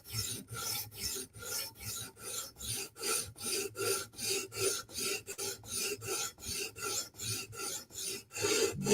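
A 15V Spyderco Military 2 knife blade is ground on a sharpening stone in quick repeated rasping strokes, about two per second, close and even, with no voices.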